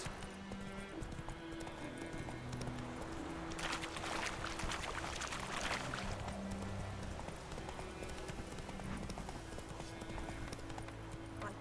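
Horse hooves clip-clop in The Witcher 3: Wild Hunt on Xbox Series X. The steady rhythmic trot sits under soft game ambience, and a rushing, water-like wash swells briefly midway.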